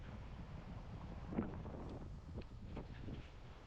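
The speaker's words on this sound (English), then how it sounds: "this is, God dang, it's windy" Strong wind buffets the microphone on a reservoir bank, a steady low broadband roar with gusty swells and no speech.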